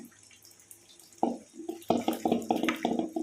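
Tap water runs and splashes in a sink while dried fish is washed by hand, starting quiet and then turning into irregular, close splashing bursts.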